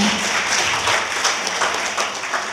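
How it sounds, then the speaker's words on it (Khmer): Audience applause at a leadership day event in a hall, a steady dense patter of many hands clapping throughout, fairly loud and continuous with no talking over it. "ចាសូមស្នូដាក់ផ្ទះដៃមួយចា"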